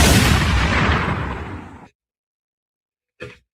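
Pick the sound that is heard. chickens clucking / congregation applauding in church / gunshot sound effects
gunshot sound effects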